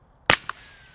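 A single Fox Creek Arms FX-22 Ti rifle shot with a CCI Standard subsonic .22 round, a sharp, short, close crack followed by a brief fainter report and quick decay outdoors.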